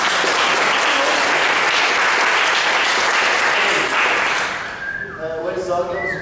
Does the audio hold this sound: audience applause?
yes